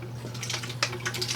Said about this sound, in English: I'm going to double check this drain with a bottle of water here.